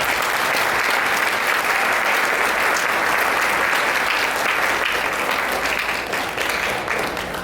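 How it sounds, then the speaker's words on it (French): Sustained, dense applause from a large audience at an International Volunteer Day ceremony honoring 200 young volunteers, steady and loud throughout with no break and no talk over it. "pourquoi pas de sonores applaudissements"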